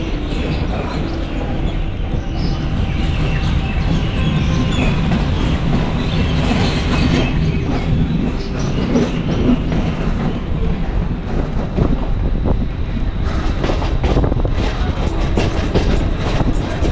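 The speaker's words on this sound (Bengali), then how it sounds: "স্টেশন থেকে ট্রেন ছেড়ে দিয়েছে" A train pulls away from a station near the Gede border, heard close and loud as a steady rumble with rhythmic clickety-clack of wheels and brief squeals building later.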